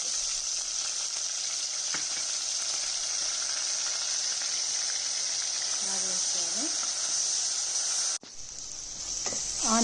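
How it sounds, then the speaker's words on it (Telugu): Onion paste sizzling steadily in hot oil for a chicken curry, a constant bright frying hiss with a few faint stirring scrapes and a brief break near the end. "ఆనియన్ వేగిపోయిందండి"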